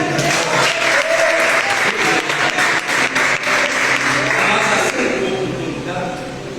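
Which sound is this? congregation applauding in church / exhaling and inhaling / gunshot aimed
congregation applauding in church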